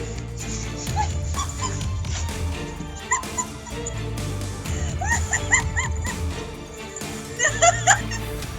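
A trained dog barks and whimpers close by, mixing bursts of barking with high-pitched whines and yips that come in short clusters over a steady background.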